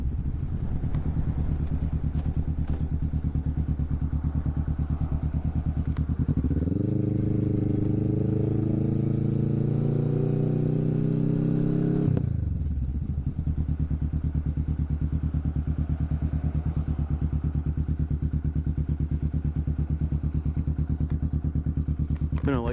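A Kawasaki Vulcan S motorcycle fitted with a Hoonk exhaust idles with a steady, close throb. Midway it revs up for several seconds, then settles back to idle.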